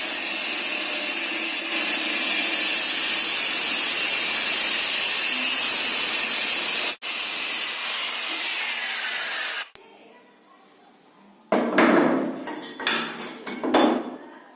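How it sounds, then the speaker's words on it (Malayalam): A one-inch metal piece is cut for a homemade mini hydraulic press, giving a loud, steady, abrasive cutting roar that runs unbroken for several seconds, briefly drops out, and then returns as short rough bursts. "അതിനുശേഷം അത്രയും നീളത്തിലുള്ള ഒരു 1 ഇഞ്ചിൻ്റെ കഷ്ണം കൂടി കട്ട് ചെയ്തെടുക്കാം"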